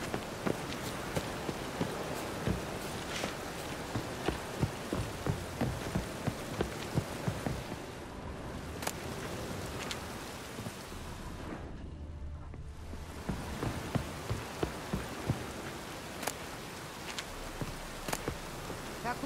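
Steady heavy rain pours throughout in The Witcher 3: Wild Hunt, in a port, with quick footsteps pattering through it and a short lull partway through.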